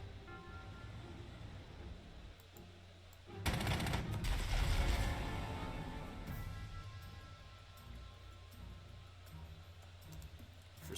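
A single heavy blast of Panzer II tank gunfire in the Panzer Corps II strategy game erupts midway and rumbles away slowly under a constant low background drone.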